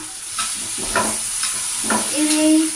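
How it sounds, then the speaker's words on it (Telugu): Okra stirred in a hot pan with turmeric and ginger, a continuous close sizzle with several scraping strokes of a spoon against the pan and a faint hum underneath. "ఓన్లీ బెండకాయలు వేసింది, పసుపు అల్లం వేసింది, అవి కలుపుతున్నా."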